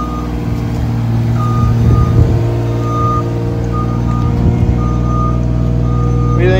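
A Bobcat L28 articulating loader on turf tires works nearby moving stone: a loud, steady diesel engine drone with a regular series of sharp reversing-alarm beeps over it, and no talking.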